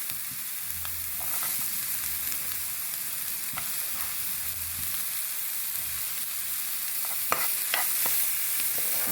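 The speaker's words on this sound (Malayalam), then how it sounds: "ഇനി ക്യാപ്സിക്കം ചെറുതായി അരിഞ്ഞതിടാം." Chopped capsicum sautéing in a pan sizzles steadily at close range, with the scrape of a stirring spoon at intervals and no talking.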